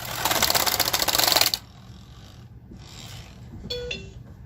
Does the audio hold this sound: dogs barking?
no